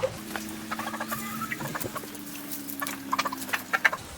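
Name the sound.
chickens feeding and scratching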